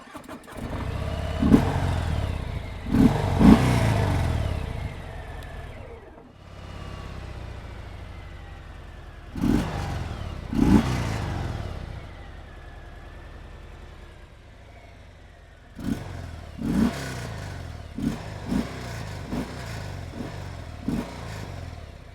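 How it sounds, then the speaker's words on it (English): A 2018 Harley-Davidson Sport Glide starts up and revs in several bursts, its deep engine rising and falling between throttle blips and idle, loud and close with no talking. "When I start the engine,"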